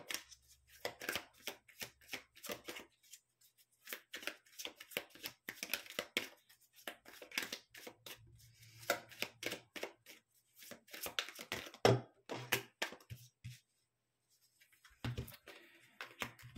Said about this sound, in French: Je vais bien les remélanger parce que c'est les mêmes que mon tirage d'avant.